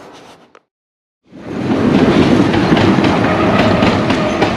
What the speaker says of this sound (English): Good old Soviet trolley tram thing.